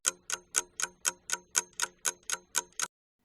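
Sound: clock ticking

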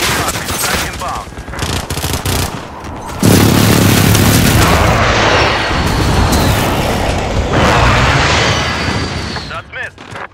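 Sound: precision airstrike explosions in Modern Warfare 2019 video game

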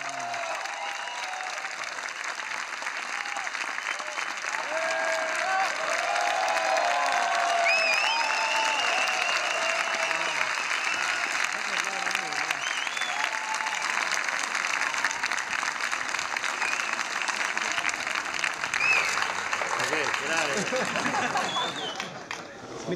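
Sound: audience applause and cheering

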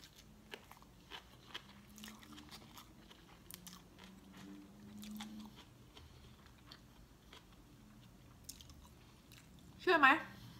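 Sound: eating kuay teow khayam (crushed noodles), chewing

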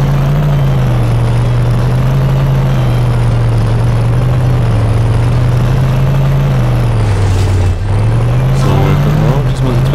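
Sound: car driving in video game The Simpsons Hit & Run

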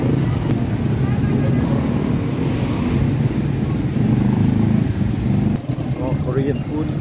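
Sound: street traffic, cars and motorcycles in Pampanga

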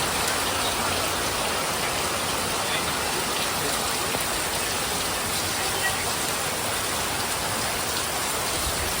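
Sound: rain falling

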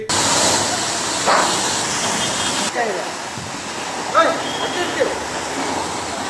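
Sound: water gushing from burst pipeline

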